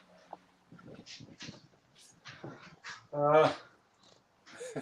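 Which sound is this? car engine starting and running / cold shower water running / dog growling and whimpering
dog growling and whimpering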